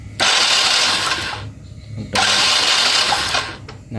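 A Yamaha Mio J scooter with its spark plug removed is cranked twice by the electric starter, giving two close, loud whirring bursts of about a second and a half each with a short pause between.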